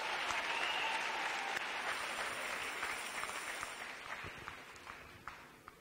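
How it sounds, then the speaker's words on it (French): A church audience applauds for Jesus, with a crowd clapping steadily and strongly at first before gradually thinning out and fading, heard from a moderate distance and fairly quiet overall. "Let's clap for Jesus."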